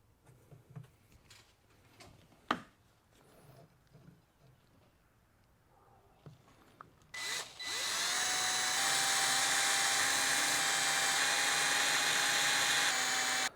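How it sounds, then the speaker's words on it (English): After some light handling clatter and a sharp knock, a power drill whines into a long, steady, high-pitched run while boring holes in a metal prop key, loud and close, with no speech. "now that all the holes are drilled"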